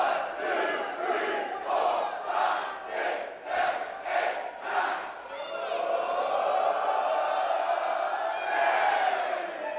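A wrestling arena crowd chanting in unison at a pro wrestling match, a rhythmic series of loud chant syllables followed by a sustained roar of cheering, filling the whole space.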